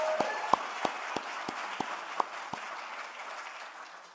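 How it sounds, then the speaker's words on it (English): Applause from an audience at a museum opening lecture, thin and fairly sparse, with a handful of distinct claps over a soft background patter that gradually fades. "a special round of applause for Harry DeLorme Jr."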